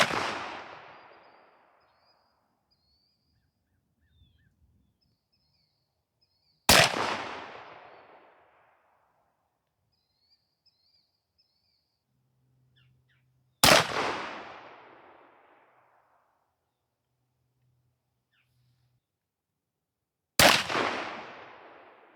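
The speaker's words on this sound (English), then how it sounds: "Let's see what these Hornady Zombie Max shells might actually be able to do" Four loud, sharp blasts from a 12-gauge shotgun firing Hornady Zombie Max 2-3/4 inch 00 buck shells, spaced about seven seconds apart, each with a quick decaying echo outdoors and near silence between shots.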